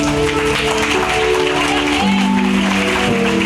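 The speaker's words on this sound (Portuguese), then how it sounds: "dá uma salva de palmas bem forte a Jesus" A church congregation claps loudly and steadily in praise, the dense applause running throughout beneath loud sustained music.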